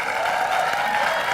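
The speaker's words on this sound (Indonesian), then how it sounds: "boleh tepuk tangan untuk Mas Mamet" A studio audience claps for a talk show guest, a brief, even, continuous patter of applause from many hands.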